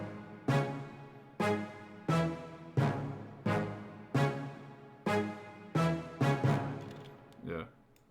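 A bass melody made in FL Studio, around ten sustained tonal hits in a steady rhythm, each struck sharply and decaying, with a quicker double hit near the end, loud and alone.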